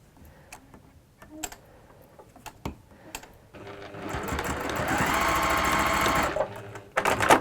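Scattered ticks and handling clicks come first, then a sewing machine starts up and runs a steady, loud whirring stitch through the fabric for about three seconds before stopping. A voice is faintly present.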